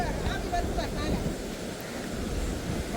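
Water at Devi's Fall waterfall in Pokhara rushes in a steady, dense broadband roar, with wind buffeting the microphone throughout.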